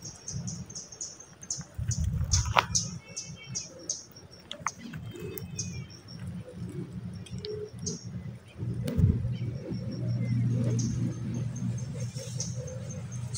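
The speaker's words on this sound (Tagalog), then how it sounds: "narinig ko na yung mga huni na malalaking ibon" Calls of large birds ring out around an abandoned house deep in the mountains, ringed by big trees. A few short, faint chirping calls come from a distance over a steady low outdoor rumble, with no talking.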